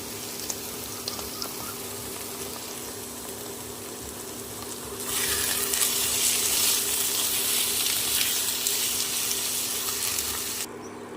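Tomato goes into hot oil and masala for a jackfruit and liver curry, and a low sizzle jumps to a louder, steady frying hiss that runs for several seconds before cutting back sharply.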